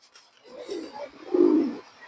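A Nota tournament pigeon coos nearby, a short soft throaty call rising to a fuller coo near the end, heard alone.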